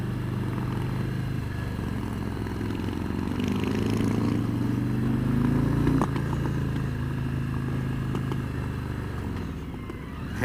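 A 2017 motorcycle accelerates with its engine droning and climbing in pitch, then breaks off briefly for a gear change around the middle before the note settles again. The engine stays steady and close, with wind noise and no speech.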